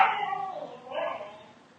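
A pet dog gives a drawn-out whimpering howl, then a second rising yelp, close by in a quiet indoor room.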